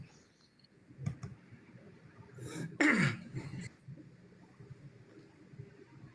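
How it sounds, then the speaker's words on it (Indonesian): A single sharp cough rings out at the midpoint in a quiet room during a church sermon, loud and close, with faint clicks and room noise around it. "Batuk Pak Pendeta ya, batuk ya."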